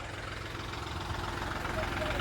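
A tractor engine drones and chugs without a break, a low rhythmic rumble that stays close and fairly loud.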